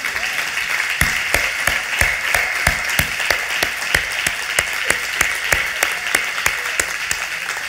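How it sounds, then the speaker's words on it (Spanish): Congregation in a church applauding, with sharp, loud claps standing out in a steady rhythm over a dense wash of clapping, continuous and close. "Denle un aplauso a Dios por su palabra"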